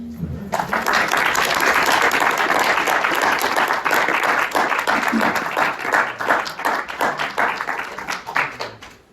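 An audience bursts into sustained applause after a poetry reading. The clapping is dense and steady from a full room, then thins and fades over the final seconds.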